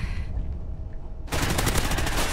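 Call of Duty Ghosts gunfire: a brief quieter shot gives way to a sudden loud burst of rapid automatic fire that continues steadily to the end, close and dominant with no talk.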